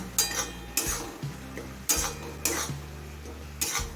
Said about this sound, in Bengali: এই জলে টমেটো সিদ্ধ হয়ে আসা পর্যন্ত নাড়াচাড়া করে নেব